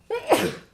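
A single sharp sneeze from an adult at a town zoning board meeting, loud and close, with no talk over it.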